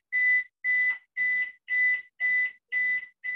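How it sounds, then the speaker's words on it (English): Refrigerator alarm beeping in a regular pattern, seven clear, even electronic tones about half a second apart with short silent gaps, loud and alone. "the my beep? refrigerator is beeping"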